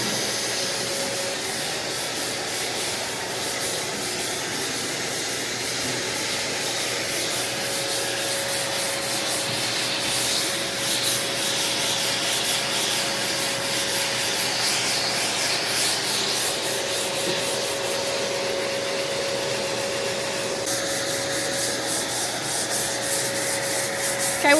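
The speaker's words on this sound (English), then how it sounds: "150, just hand sanding." Hand sanding with 150 grit paper on the body of a 1969 Pontiac GTO under restoration, a steady continuous rubbing hiss at close range with a faint tonal hum in the background.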